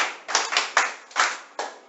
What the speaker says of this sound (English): Thank you, please clap for her.